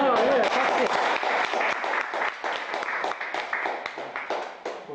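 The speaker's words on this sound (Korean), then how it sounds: "박수. 예, 박수." Audience applause at a Korean astronomy and brain-science gathering, a dense burst of clapping that starts loud and gradually thins into scattered claps over several seconds, with voices murmuring beneath.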